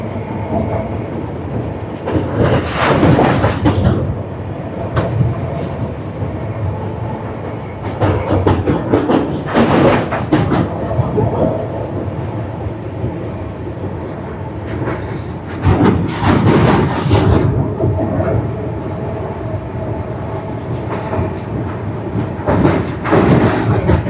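The Himsagar Express rolls across a long railway bridge over the Krishna river, a loud continuous rumble with repeated surges of rattling clatter from the wheels and carriages.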